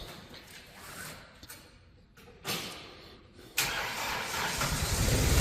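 A Kohler engine on a 2015 Moffett M8 55.3 truck-mounted forklift cranks and starts in a shop, with a couple of sharp clunks before it rises into a steady, building idle.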